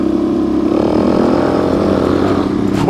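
A motorcycle engine rides hard on Moab's Potash Road in Utah, a loud, continuous drone close to the microphone with the pitch climbing as it revs, no speech.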